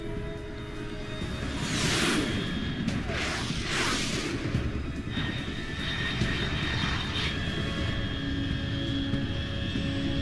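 A fast aircraft roars overhead in Metal Gear Solid 3: Snake Eater. A loud, continuous engine rumble with sweeping whooshes builds and passes, and a voice speaks under it.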